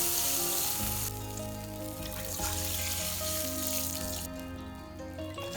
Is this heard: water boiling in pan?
yes